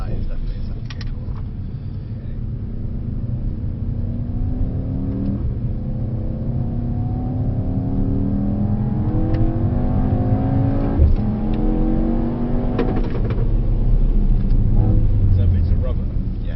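A Mercedes-AMG GT63S accelerates hard around a race track and its engine note climbs through the gears, heard from inside the car. The drone is loud and continuous, with rising pitch sweeps, and voices talk faintly beneath it.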